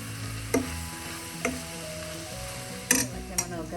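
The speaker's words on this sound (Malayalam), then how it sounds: "പച്ചമണം മാറുന്ന വരെ വഴറ്റാം." Onions and spice powders sauté in a pan for a Kerala country-style chicken curry, giving a soft, steady sizzle. A few sharp clicks of a spoon against the pan punctuate it.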